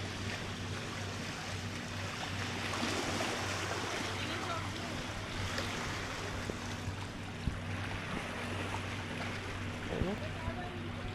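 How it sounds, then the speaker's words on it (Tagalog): Sea waves wash against the rocks along the shore of Morocborocan island off Legazpi, Albay, making a steady, continuous rush of surf at moderate distance with no distinct individual breakers. "Tapos ang alo ng dagat na humahampas sa mga bato"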